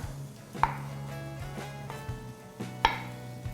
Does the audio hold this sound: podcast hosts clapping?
no